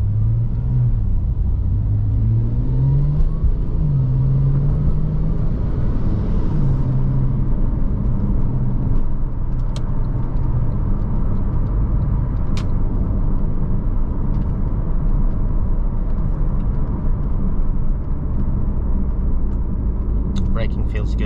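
A 2010 Porsche 911 Turbo runs on the road with a steady low engine rumble, a couple of shifts rising early on, and faint voices underneath.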